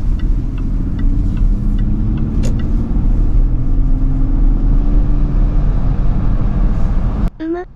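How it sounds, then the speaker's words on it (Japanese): A Jaguar XF sedan's six-cylinder engine drones steadily with a deep, loud rumble from inside the cabin, holding a constant pitch before cutting off abruptly near the end. "6気筒らしさはないが迫力ある音だ。"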